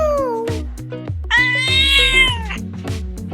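A voice imitates a cat's meow, singing it as a drawn-out, wavering cry over bouncy children's song music with a steady beat.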